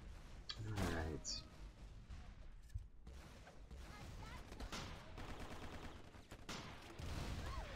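Gunfire in the toy-themed shooter MicroVolts: bursts of rapid shots and scattered single cracks across a busy stretch of game noise, with people talking.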